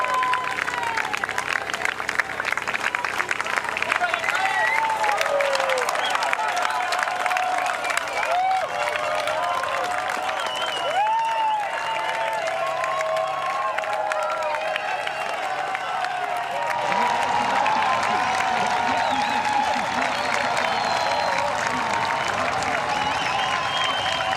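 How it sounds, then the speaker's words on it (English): Large crowd at a European Championships triathlon in Munich cheering and applauding steadily, a dense sustained roar of clapping and shouts that swells slightly near the end. "you can hear the crowd reaction"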